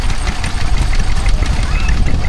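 A Lister Bruston stationary engine runs at a steam and craft fair, giving a loud, steady low chugging drone that holds evenly throughout.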